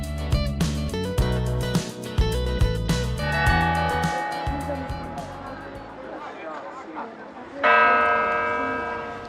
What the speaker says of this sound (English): I am standing in front of its most famous landmark, the bell tower of the Cathedral of Messina.